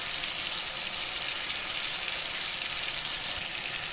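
Spice paste for coriander paneer, with softened tomato, fries in a pan with a loud, even sizzle and hiss that holds steady and eases slightly near the end, no talking.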